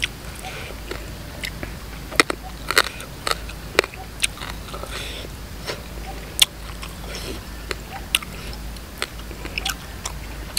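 Boiled frogs laden with eggs in a sour soup are bitten and chewed close up, giving irregular crisp crunches and wet chewing clicks over a quiet background.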